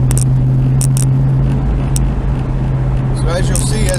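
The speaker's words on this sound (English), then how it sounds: "as we go through this tunnel, we'll speed it up a little bit" A car drives through a road tunnel on the Parkway East during an accident detour, with a steady, loud engine and road drone echoing throughout and a voice faintly audible near the end.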